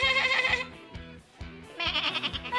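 A cartoon cat character's voice imitating a goat, letting out a string of loud, wavering bleats in two bursts separated by a brief pause, with no other talk.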